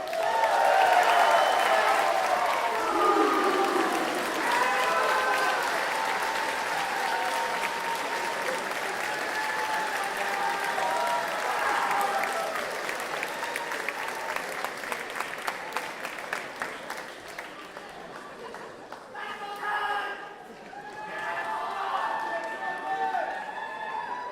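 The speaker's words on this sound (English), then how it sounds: "Another round of applause." Sustained audience applause fills a spring commencement ceremony for sport, tourism and hospitality management graduates, a dense wash of clapping lasting the whole stretch, with some voices mixed in and a brief dip near the end before it swells again.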